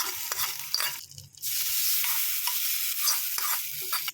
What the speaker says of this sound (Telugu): ఈ పోపు దీంట్లో వేసుకోవాలి.